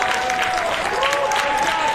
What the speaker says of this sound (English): Now the home crowd's giving the Saints a good hand here